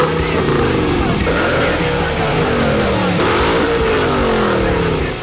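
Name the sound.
Audi RS4 V8 engine with modified free-flowing exhaust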